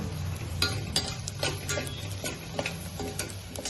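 Beans tossed with biryani masala fry in a pan, a quiet sizzle broken by light ticking scrapes and clicks of a spoon stirring against the metal at an uneven pace.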